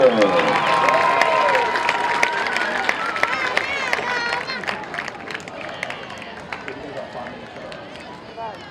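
Crowd at a Ouachita football game against Arkansas Tech applauding and cheering for the Ouachita cheer squad, a dense wash of clapping and voices that gradually thins out, with an announcer's voice over the top.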